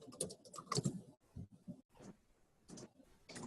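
Someone types a web address on a computer keyboard, producing soft, quick keystroke clicks in uneven bursts with brief pauses, close and fairly quiet.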